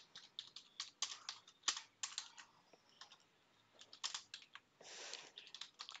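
Rapid bursts of typing on a computer keyboard while entering code to print an array's length, close and clear, with uneven clusters of keystrokes and short pauses, no voices.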